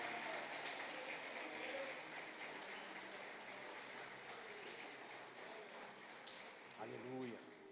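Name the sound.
congregation applauding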